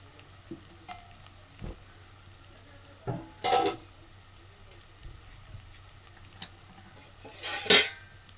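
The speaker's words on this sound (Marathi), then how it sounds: "आपण आता हा चांगला परतून घेऊ" Leftover cooked rice being stir-fried in a pan for phodnicha bhaat, with scattered scrapes and clinks of a spatula against metal over a faint sizzle, a few louder stirring strokes standing out near the end.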